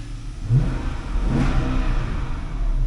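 A 2011 Dodge Challenger R/T with a 5.7-liter Hemi V8 revs up close and loud, a deep throaty engine roar swelling near the start and then holding a steady, rumbling drone for the rest.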